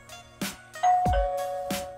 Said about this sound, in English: it's working as a doorbell.